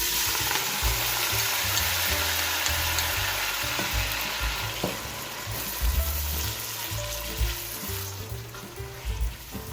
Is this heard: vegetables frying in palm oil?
yes